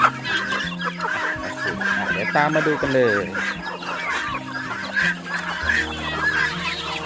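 A flock of chickens clucks and squawks busily nearby at feeding time, with someone speaking briefly over the chatter.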